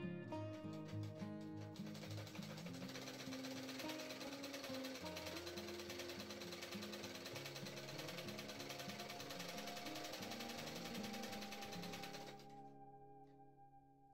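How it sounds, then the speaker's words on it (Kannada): Sewing machine stitching a ready-made blouse to take it in, a close, fast, steady mechanical chatter that runs evenly for about twelve seconds and then stops, leaving a quiet tail. "ನಾನು ಇವಾಗ ಇಲ್ಲೆಲ್ಲ ಸ್ಟಿಚ್ ಮಾಡ್ತೀನಿ."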